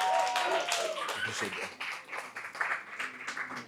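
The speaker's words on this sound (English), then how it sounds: "So the biggest round of applause for the night, please" At a cocktails and networking evening, the audience gives a round of applause, scattered clapping rising and falling in bursts alongside a speaker's voice.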